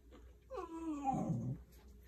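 A female dog gives a short, drawn-out whimpering whine that slides downward into a low growl, fairly close but quiet against a soft background hum.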